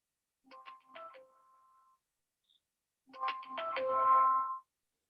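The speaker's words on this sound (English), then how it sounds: "I don't know whose phone that is" A mobile phone ringtone goes off during an online meditation Q&A meeting, playing two short bursts of a bright tonal melody, then a pause, then a louder, fuller stretch of ringing that swells before it cuts off.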